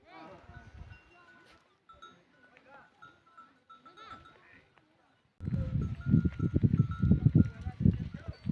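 Goats bleat in a hillside forest in scattered, thin calls, with faint ringing tones and rustling nearby, then a louder burst of rough handling and movement noise.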